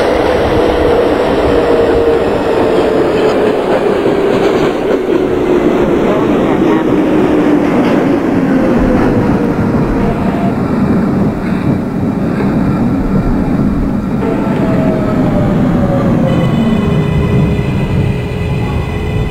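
A New York City subway L train in the OpenBVE simulator game rumbles loudly along the track, its motor whining in a slowly falling pitch, with a constant roar throughout.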